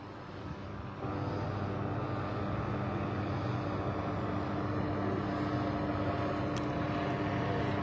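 A steady, distant drone of a police-style helicopter circling at night over rooftops in a city ward, holding a constant low rumble throughout with no speech.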